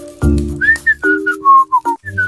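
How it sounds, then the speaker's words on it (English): A person whistles a short, clear melody close by, sliding between bright pitched notes in quick phrases with brief gaps and faint background sounds underneath. "Who's that kid that's whistling?"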